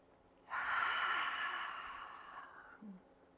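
During a yoga session, one deep cleansing breath is drawn in audibly and then let out as a long airy exhale that fades over a couple of seconds in a quiet room, followed by a faint low murmur.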